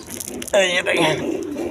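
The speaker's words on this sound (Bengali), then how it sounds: "হাই ফ্লাইং গিরিবাস কবুতর" High-flying Giribaz pigeons coo in a loft, one clear rolling coo rising loud and close after a quiet start, with a voice talking around it.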